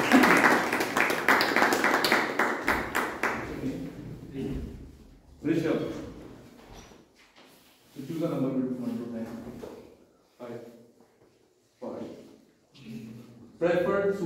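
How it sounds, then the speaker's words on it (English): Short burst of audience clapping for a guest speaker at a Toastmasters club meeting, brisk and fairly loud for about three seconds, then giving way to talk. "So give him a round of applause."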